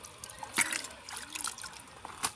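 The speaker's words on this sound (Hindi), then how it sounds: "बहुत ज़्यादा आग हो गया तो झुलसा लिए हैं और अच्छा से पानी में धो लेंगे साफ पानी से।" Scorched pigeons being rinsed in clean water in a village kitchen, with faint trickling and splashing, a few brief louder splashes standing out against quiet background.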